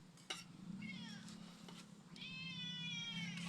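A cat meows several times up close, its calls rising and falling over a steady low hum, with faint clinks in the background.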